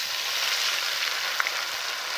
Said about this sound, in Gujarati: હવે એમાં આદુ મરચાં ખાંડેલા લસણ નાખશું.